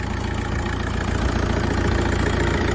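A 2005 Volkswagen Caddy with a simple non-turbo engine idles smoothly and steadily, a close, even low rumble with no other sounds.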